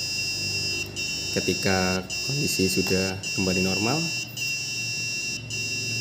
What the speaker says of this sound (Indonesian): Nah, terdeteksi asap dan buzzer akan berbunyi.